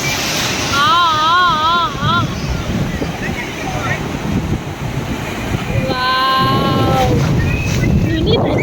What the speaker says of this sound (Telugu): పెద్ద అలలు వస్తున్నాయి అసలు.